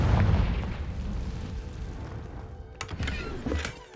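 Confringo fire spell explosion from the video game Hogwarts Legacy, a rumbling blast that fades, then a couple of sharp bursts near the end, fairly quiet and with no talk.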